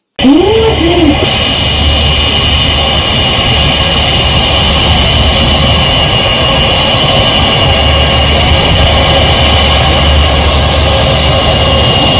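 A loud, continuous jet engine roar from an IndiGo passenger airplane landing close by at Navi Mumbai airport, holding steady with a deep rumble underneath for the whole stretch.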